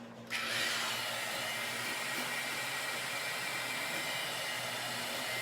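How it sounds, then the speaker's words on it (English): Heat gun blowing hot air onto epoxy on a red, silver and black swirl-painted tumbler: a steady, loud whooshing roar that switches on at the start and runs unbroken, with no talking. "I'm just going to heat this epoxy up, get it to spin"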